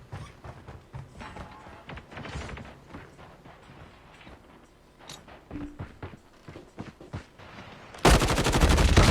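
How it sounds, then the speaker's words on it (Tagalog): In a battle royale video game, bursts of gunfire crack repeatedly at a moderate distance, scattered among footsteps and other clatter, then end in a loud, sustained rush of noise. "Trickster, iba yung binaril ko"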